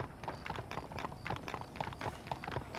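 Horses' hooves clip-clopping in the Western video game Red Dead Redemption, a quick steady trotting rhythm of hard hoof strikes, faint and somewhat distant, with no voices over it.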